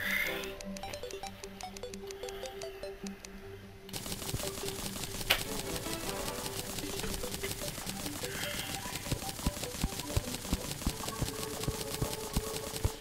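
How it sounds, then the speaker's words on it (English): Rapid, dense clicking from spam-clicking while building in Terraria runs as a steady rattling patter that thickens and grows louder partway through. Game sound effects play softly underneath, and no one speaks. "I just hear the background of you spam clicking it."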